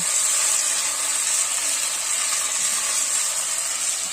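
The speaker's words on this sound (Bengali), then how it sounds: "এ দেখো গরম হয়ে গেছে তেল বোন কি দিলে প্রথমে হ্যাঁ তো বোন প্রথমে তেলে রসুনটা দিয়ে দিল" Garlic sizzles in hot oil for a meat curry, a steady bright hiss that holds evenly throughout, close and fairly loud with no voices over it.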